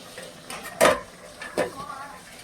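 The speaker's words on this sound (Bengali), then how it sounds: "এবার ঢাকনাটা খুললাম" A metal lid comes off a pot of simmering fish curry, giving a sharp clatter followed by a second, softer clink against the rim, close by in a quiet kitchen.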